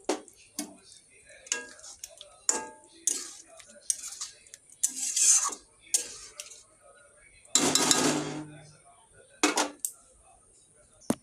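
Pointed gourd posto curry finished with ghee is scraped and poured from a pan into a serving dish, with a string of metallic clinks and scrapes of utensil on cookware, close by, and a voice speaking between the clatter.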